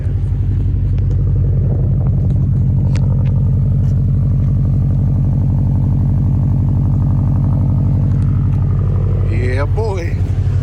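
A Subaru WRX STI engine idles and revs with a loud, steady throbbing rumble from close by, and a voice speaks briefly near the end over the engine.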